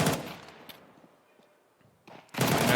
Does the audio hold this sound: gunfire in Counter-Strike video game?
yes